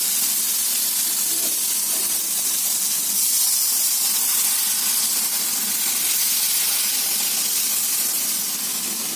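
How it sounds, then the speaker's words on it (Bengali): Hot water meets a pot of cooking chicken curry, giving a loud, steady hiss of steam and sizzling that runs close and unbroken throughout. "এখন গরম পানি দিয়ে দেবো"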